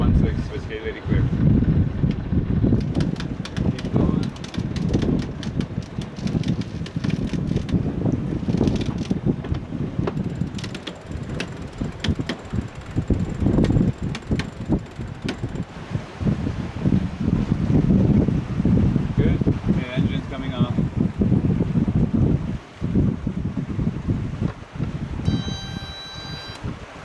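A sailboat moves under sail off Colombia, buffeted by steady rushing wind and microphone gusts, with rustling and creaking through the whole stretch and people speaking now and then.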